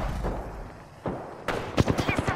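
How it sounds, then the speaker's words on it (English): Apex Legends gunfire cracks through a skirmish, a few isolated shots early, then a rapid burst of close, sharp rounds near the end over low game background noise. "Listen up, I'm getting shot at."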